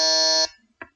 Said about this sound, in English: we will start by testing our buzzers